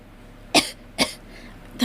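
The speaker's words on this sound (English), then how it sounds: "that's where the cough comes from" A woman gives three short, dry coughs, close and sharp, spaced about half a second apart against a quiet room background.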